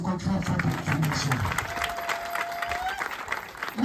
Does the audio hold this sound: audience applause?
yes